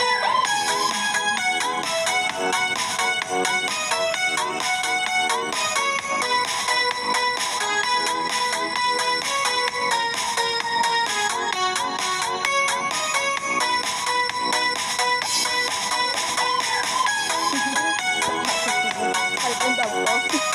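A cellphone ringtone plays loud and steady for about twenty seconds, a busy melodic tone pattern repeating without pause and no talking over it.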